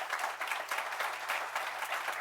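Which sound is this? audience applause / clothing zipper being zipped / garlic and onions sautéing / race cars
audience applause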